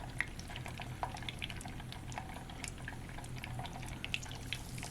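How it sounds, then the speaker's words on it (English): A batch of smoked mozzarella sticks made from string cheese deep frying in hot oil gives a soft, steady bubbling with scattered small pops and crackles, faint and continuous. "You can tell by how aggressive the cheese sticks are frying when I put them in there."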